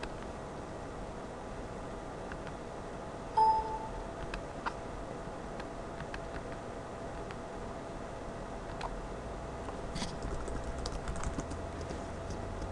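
Steady, quiet tapping on a computer keyboard as a search is typed into Google, light keystrokes running continuously at an even pace, close by and without talk.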